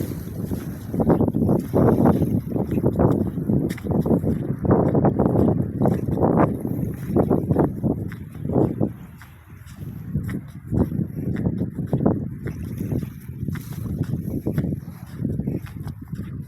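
Strong wind buffets the microphone in heavy, rumbling gusts that keep rising and falling, with a brief lull midway, on an abandoned island in Palawan.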